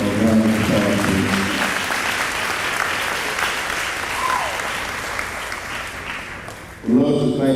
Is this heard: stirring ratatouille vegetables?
no